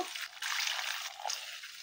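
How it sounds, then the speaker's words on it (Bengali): A small splash of water poured into a pan of cooking puti fish, giving a brief hissing, trickling rush that stays steady and close for about two seconds. "সামান্য একটু পানি দিব"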